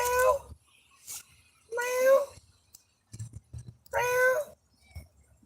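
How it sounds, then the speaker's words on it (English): A cat outdoors meows three times, each call clear and fairly near, spaced about two seconds apart, with faint low background noise and a few soft knocks between calls. "There's a cat outside,"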